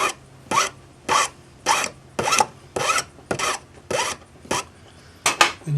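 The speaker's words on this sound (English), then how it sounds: "So we'll just finish up filing the taper on it." A hand file works a taper onto the end of metal ring wire in about nine crisp, evenly spaced rasping strokes, close and alone with no talk.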